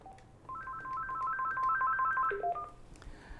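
Telephone lines open for a call-in session of a Buddhist teaching broadcast, with a quick sequence of electronic dialing tones followed by a short ringing chirp, clear but fairly quiet.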